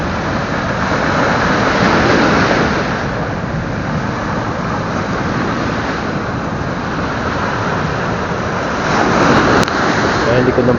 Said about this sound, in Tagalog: Ngayon lang ulit nangyari ito mga master na ganito kalaki.